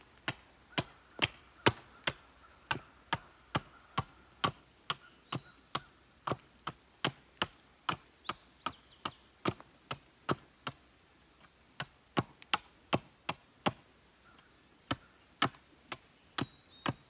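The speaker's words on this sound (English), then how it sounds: "I just cut it to length and then put a point on it" A hickory stake is cut to length and sharpened to a point, with about forty sharp, evenly spaced chopping strikes in a steady rhythm, close and crisp, with no speech.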